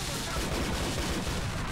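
Rapid bursts of gunfire from the GTA: The Lost and Damned video game fill the moment, a dense, steady rattle of overlapping shots with no pauses.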